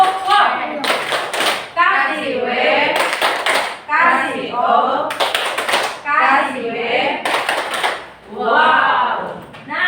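A group performs the 'tepuk wow' rhythmic clapping game, with several sharp bursts of claps spaced apart between stretches of energetic chanting voices.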